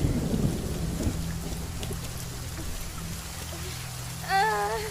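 Heavy rain pours steadily with a low thunder rumble underneath, continuous and enveloping, and a brief high warbling call sounds near the end.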